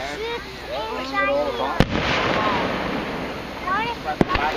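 Fourth of July fireworks over Stroudsburg, Pennsylvania, in 2012: two sharp booms about two and a half seconds apart cut through steady outdoor noise while people chat nearby.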